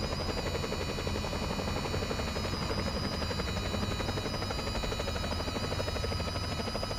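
A helicopter engine and rotor produce a constant, dense droning whine that holds steady at an even loudness for the whole stretch, with no speech.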